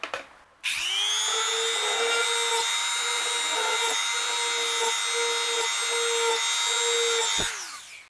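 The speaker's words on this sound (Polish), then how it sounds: "To będziemy wiercić na potrójnych obrotach." A power drill at maximum speed bores holes in a Ferrero chocolate box being made into a terrarium. Its steady high-pitched whine runs loud and close for about seven seconds, then winds down.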